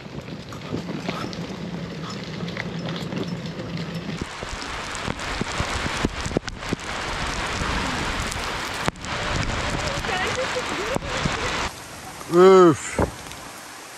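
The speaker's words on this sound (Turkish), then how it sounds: "Belliydi bunun zaten böyle yağacağı." Heavy rain drums steadily on a surface with wind buffeting the microphone; a brief exclamation is heard and a sharp tone sounds near the end.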